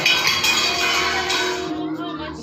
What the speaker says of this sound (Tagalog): bigla na lamang nagbagsakan ang mga kagamitan na ating nakikita